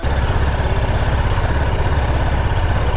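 A Bajaj Dominar motorcycle engine idles loudly and steadily close by, a rough, pulsing low rumble that holds throughout.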